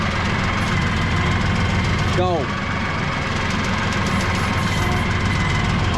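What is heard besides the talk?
tractor engine running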